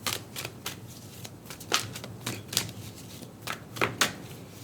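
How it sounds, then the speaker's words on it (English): Psychic Tarot Oracle cards are shuffled by hand, a series of soft papery riffles and slaps at an uneven rhythm, close and quiet, with no voices. "I am going to pull some Psychic Tarot Oracle cards."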